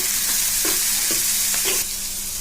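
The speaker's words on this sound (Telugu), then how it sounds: "తరువాత అల్లం వెల్లుల్లి పేస్టు, తరువాత పచ్చిమిర్చి, కరివేపాకు వేసుకొని కొంచెం సేపు వేగనివ్వాలి" Ginger garlic paste, green chillies and curry leaves fry in hot oil in a village kitchen, giving a loud, steady sizzle with a few soft stirring scrapes throughout.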